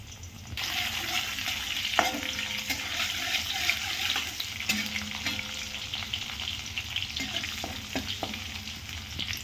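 Garlic and cumin sizzle steadily in hot oil, a loud continuous crackling hiss close by with occasional utensil clicks.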